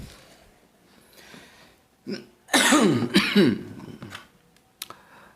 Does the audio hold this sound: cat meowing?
no